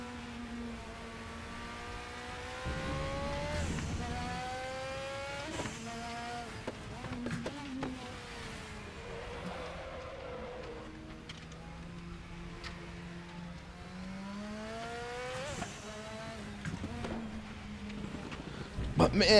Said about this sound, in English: listen to the sound of that car. It just sounds so visceral. It sounds so raw.